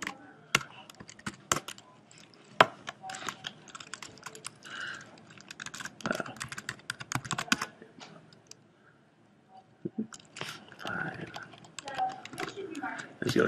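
Bursts of quick clicking keystrokes on a computer keyboard in a conference talk setting, irregular runs of typing with short pauses, fairly close and moderately quiet, with someone speaking at times.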